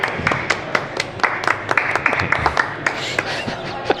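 Podcast hosts give a steady round of golf-clap applause, a run of close, crisp hand claps repeating in an even rhythm for several seconds with no talking over it.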